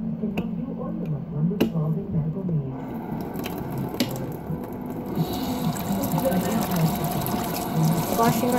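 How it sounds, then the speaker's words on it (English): Water running from a sink tap during handwashing, a steady close splashing flow that builds and continues throughout, with a few faint clicks and knocks and some speech underneath. "Washing my hands before I put on the nails."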